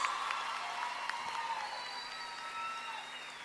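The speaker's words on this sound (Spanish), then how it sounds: "¡Aplausos!" Studio audience applause at a Spanish-language televised show, a steady moderate wash of clapping with a few brighter tonal streaks over it, no voices.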